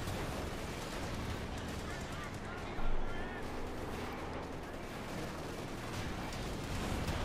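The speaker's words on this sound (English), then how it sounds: "6-pounder gun gets a good hit in the cromwell" Artillery and gunfire from a Company of Heroes 2 match, including a British 6-pounder anti-tank gun striking a Cromwell tank, as dense continuous battle noise with one heavier blast near the three-second mark, loud throughout, with a commentator talking over it.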